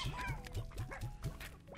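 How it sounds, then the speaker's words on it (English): Chickens in the video game Slime Rancher: a quick run of rhythmic, squawky clucks, about seven in under two seconds, close and steady. "where the hell did you chickens come from?"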